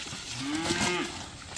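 A single low, drawn-out moo from a cow on a homestead farm on a summer morning, moderately close and alone without talk.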